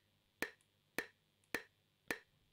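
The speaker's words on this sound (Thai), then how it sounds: "ไฮแฮท" Four crisp, bright hi-hat metronome ticks from a Line 6 Spider V 30 guitar amp, evenly spaced about half a second apart, alone with no voices.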